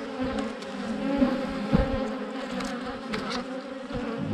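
Honeybees buzz densely around an open hive frame packed with pollen, a steady close-up drone of many wings with a few louder individual bees passing near.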